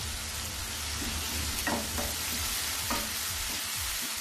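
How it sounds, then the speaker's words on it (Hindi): Chopped mustard greens and green chillies being mixed in a hot pan, a soft sizzle with a few scraping stirs of a spoon, quiet and close, no voices. "सभी चीजों को हम फिर से मिक्स कर लेंगे।"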